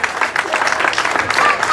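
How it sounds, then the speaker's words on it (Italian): Crowd applauding at the trophy presentation of an Oppido Mamertina autoslalom, dense sustained clapping from an outdoor gathering, with a faint whistle or tone cutting through late on. "Un applauso fortissimo"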